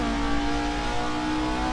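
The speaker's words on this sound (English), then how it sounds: "Listen to that engine." A racing car engine in the Assetto Corsa sim racing game holds a steady, loud, buzzing high-rev drone throughout, with no speech over it.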